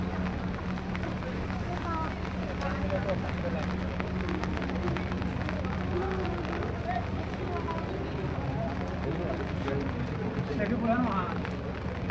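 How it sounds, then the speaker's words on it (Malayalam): Steady rain falls on the seashore at Kanyakumari, a dense, continuous hiss of drops with wind and surf mixed in, while people talk faintly in the background. "മഴയുണ്ട് ഇവിടെ."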